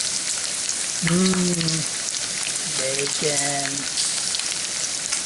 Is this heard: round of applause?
no